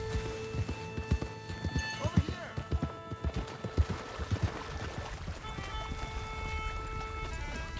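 Horse hooves galloping in Red Dead Redemption 2, a rapid, steady clip-clop of hoofbeats close by, with a brief whinny and game music and ambience running underneath.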